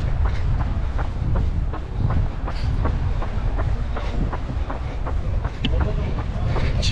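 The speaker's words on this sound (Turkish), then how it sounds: "Şimdi tramvayından aşağı ineceğim." An Istanbul tram rolls along with a loud, continuous rumble and a steady rhythm of rail clicks about every half second, heard up close for the whole stretch.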